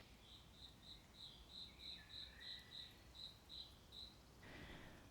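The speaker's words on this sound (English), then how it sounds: "the slow, rhythmic chirp of a single cricket nearby" A single nearby cricket chirps in a slow, even rhythm, a dozen clear pulses against a faint, quiet background, then a soft rustle near the end.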